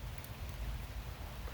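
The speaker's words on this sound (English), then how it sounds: "it is raining pretty good right now" Rain falls steadily beside a creek during a thunderstorm, a soft, even wash of patter heard close by and fairly quiet, with no talking.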